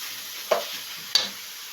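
Pork being stirred and fried in a pan for Bicol Express, with two sharp scraping clinks of the utensil against the pan over a faint, steady sizzle.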